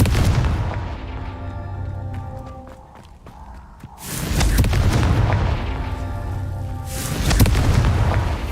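Explosions from the Confringo fire spell in the Hogwarts Legacy video game: loud, deep booming blasts with rumbling tails, a burst near the start and a bigger roar from about four seconds on, with no talk.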